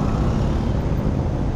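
A Kawasaki Ninja ZX-4RR with a carbon underside goes by close up, its engine a loud, steady roar across the whole short moment.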